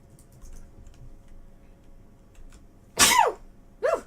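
A person sneezes loudly and close by, a sharp burst followed by a second, shorter one, after a quiet stretch with faint tapping.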